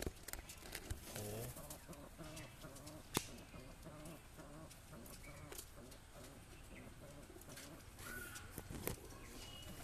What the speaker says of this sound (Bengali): এখানে যে নাপ্তা সাহারানপুরি নাপ্তা, ফার্স্ট ক্লাস পায়রা সাহারানপুরি নাপ্তা।